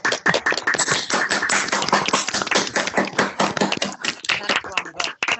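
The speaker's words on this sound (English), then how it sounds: "give Kerry a proper human round of applause, an embodied round of applause rather than simply a silent one" An audience at a memorial lecture claps in steady, dense applause throughout, loud and close, with a few sharper individual claps near the end.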